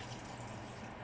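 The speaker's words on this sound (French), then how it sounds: "je mets de l'eau." Water pouring steadily into a pot for cooking noodles, a continuous soft gushing fill heard alone and close, fairly quiet.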